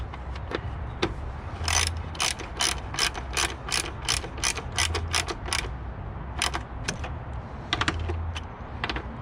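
A ratchet clicks in quick, repeated bursts while bolts are tightened on the plastic radiator fan of a 1998 Toyota Camry 2.2, the clicking close and fairly loud with short pauses between strokes.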